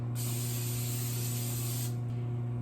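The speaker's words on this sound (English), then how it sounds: "I've restarted my skillet on medium heat, and I'm adding a little cooking oil once again" Cooking oil sprayed into a skillet heating on medium for an egg burrito: one steady, close hiss lasting about two seconds, then it cuts off, with a constant low hum underneath throughout.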